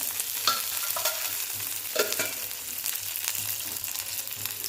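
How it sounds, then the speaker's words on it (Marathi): Steady low frying sizzle of garlic cloves in a little oil in a kadhai, with occasional scraping stirs, close and continuous, no voices. "ह्याच कढईमध्ये एक दहा बारा पाकळ्या लसूण टाकायचा किंचित असं तेल टाकायचं"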